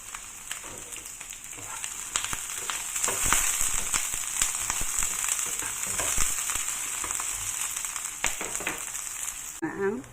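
Chili added to chicken liver frying in a pan gives a loud, steady hissing sizzle with crackling pops and a few stirring scrapes, close up and continuous throughout.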